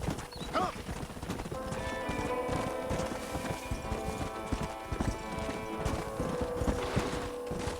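A horse in the video game Red Dead Redemption clip-clops along with rhythmic, fairly close hoofbeats and gives a high neigh early on. A second, drawn-out whinny sounds over the steady trotting.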